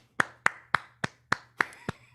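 Clapping for a film director at an online Q&A: eight crisp, evenly spaced claps from close by, slow and steady, with no crowd swell behind them.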